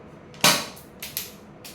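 A realistic toy pistol gives one sharp, close snap, followed by a few softer mechanical clicks as it is handled and loaded, with short quiet gaps in between.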